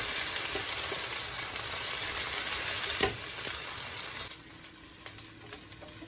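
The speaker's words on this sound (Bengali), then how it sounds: "ব্রাউন না হওয়া পর্যন্ত নাড়তে থাকবো" Chicken and bok choy frying and being stirred in a pan, with a steady loud sizzle and hiss that drops after about four seconds, leaving scattered crackles and a few scraping stirs.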